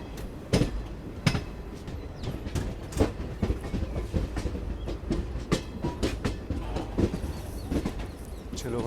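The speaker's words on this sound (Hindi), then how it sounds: "ट्रेन स्लो डाउन होकर के भरोली जंक्शन पे रुक रही है" The Garib Rath express to Jammu slows as it nears Bharoli Junction, with a steady rumble broken by sharp, irregular clickety-clack strikes of wheels over rail joints, heard up close from aboard and with no voices.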